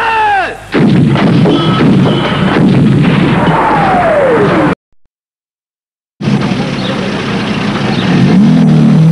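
Artillery guns fire in a film trailer: booming blasts with rumbling roar and descending whistles fill the first stretch, then a sudden silence, then the heavy bombardment resumes, loud and dense.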